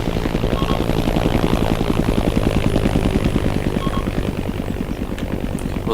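An AH-1 Cobra attack helicopter arrives in the combat game ArmA: Armed Assault, its steady rotor thump and engine drone loud and continuous throughout.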